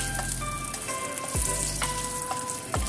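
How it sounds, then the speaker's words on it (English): Spices and pepper stir-fried in hot oil in a pan for a braised beef shank dish make a steady close sizzle, with light clinks and tonal scrapes from a utensil on the pan. "Stir fry until the pepper become brown color."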